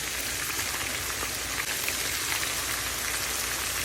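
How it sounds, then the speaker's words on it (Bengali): Broccoli and potato fry in a pan with green chili, onion, turmeric and salt, giving a dense, even sizzle like steady rain, close and continuous. "এটা আমি নেড়ে চেড়ে হালকা আস্তে ভেজে নিচ্ছি"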